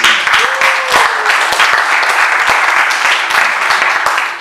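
A charismatic church congregation bursts into sustained applause to acclaim the Lord. The dense, steady clapping is loud and close and continues unbroken throughout, with a hint of voices beneath.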